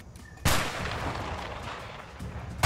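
Two heavy booming shots from a big gun in a video game, one early and one at the very end, with a long rumbling decay between them.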